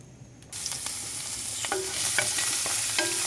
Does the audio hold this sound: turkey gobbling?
no